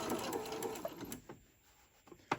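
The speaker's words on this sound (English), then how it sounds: "now I'm going to sew a top stitch right going across here, just gently and slow" A sewing machine runs slow, gentle top stitching across a ruffle-trimmed tote bag: a quiet, brief whirring burst that fades out, followed by a couple of faint clicks.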